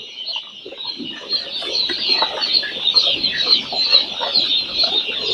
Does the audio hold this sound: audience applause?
no